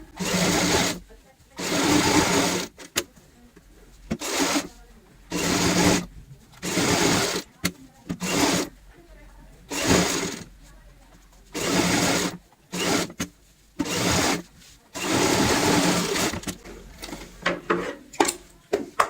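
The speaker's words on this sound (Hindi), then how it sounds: "जो हमने निशान लगाए हैं निशानों के ऊपर ही सिलाई लगाते हैं।" Sewing machine stitching cushion cover fabric in repeated bursts of rapid whirring, each lasting a second or two, broken by short pauses and small clicks, with talking heard between runs.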